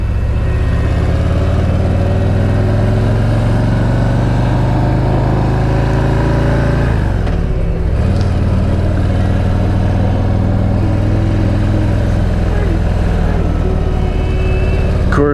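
A 2020 Harley-Davidson CVO Ultra Limited rumbles steadily while riding in Michigan, its loud, low engine drone and road and wind noise continuous throughout, with a brief dip midway.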